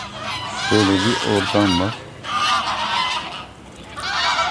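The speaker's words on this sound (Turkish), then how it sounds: "Ördeklerin sesi geliyor mu bilmiyorum ama." Geese or ducks honking loudly nearby, a burst of several nasal calls in quick succession, with a person briefly talking in an outdoor setting and wind noise around.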